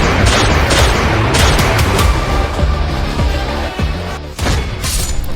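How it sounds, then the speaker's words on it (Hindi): Rapid gunfire in a hotel lobby, a dense volley of sharp cracks and booms fired in quick irregular bursts, loud and close with no talk. "होटल में दनादन फायर"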